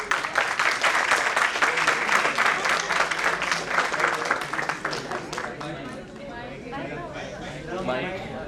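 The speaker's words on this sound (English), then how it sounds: "Round of applause." Audience applause fills a school or college Q&A session, dense and steady clapping with crowd chatter mixed in, tapering slightly toward the end.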